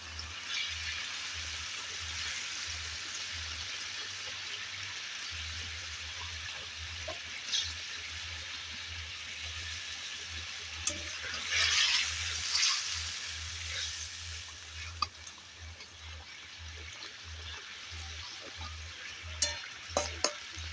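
A koi fish curry broth bubbles at a low steady simmer, with a soft pan clatter and light stirring around the middle and a few clicks near the end.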